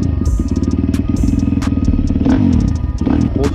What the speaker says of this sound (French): démarrage au kick sur cette moto, pas de démarreur électrique